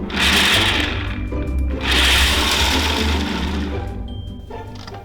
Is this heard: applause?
no